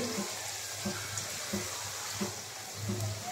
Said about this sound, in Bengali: এই যে দেখেন এই যে ভাজা হচ্ছে